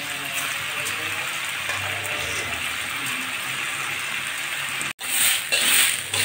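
Washed rice and lentils tipped into a pot of potatoes being cooked for a Bengali breakfast dish, with a steady, dense sizzling and frying hiss, a brief drop to silence near the end, then louder stirring and sizzle.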